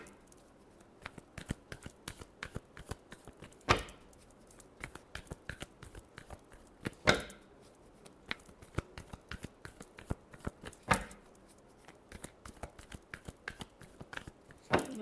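Tarot cards riffled and shuffled by hand in quick repeated bursts, crisp papery flutters and taps close by with short louder riffles, no talking over them.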